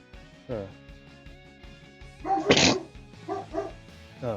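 A single sharp sneeze bursts out midway, loud and close, with a voice talking before and after it.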